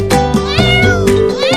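A kitten meowing repeatedly at close range, several bright, tonal meows in quick succession, loud and near.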